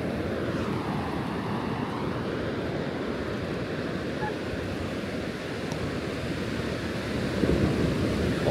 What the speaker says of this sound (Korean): 파도가 좀 세 보이는데?